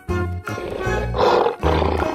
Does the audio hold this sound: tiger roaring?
yes